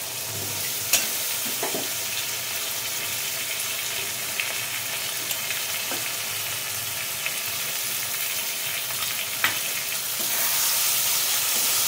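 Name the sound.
green chili and mustard paste frying in a pan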